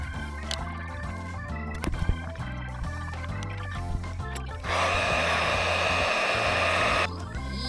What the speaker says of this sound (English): I've been working the carb a little bit, well, a lot actually, with the hot air gun